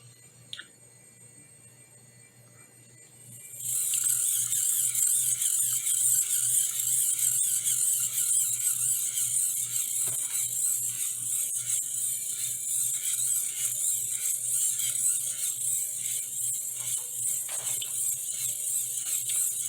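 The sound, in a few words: compass motor running, magnets on an electric motor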